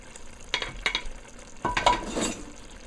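Shrimps tipped into a frying pan for a katahar curry set off two bursts of sizzling and stirring, the second louder and longer, over a quiet background hiss.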